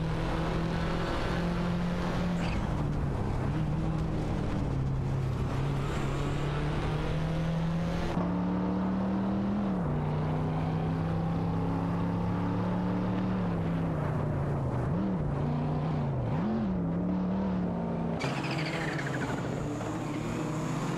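Video-game race cars, including a Ford Mustang and a TVR Tuscan, drone loudly and steadily, with the engine pitch rising and dipping through gear changes and brief revs, and no talking.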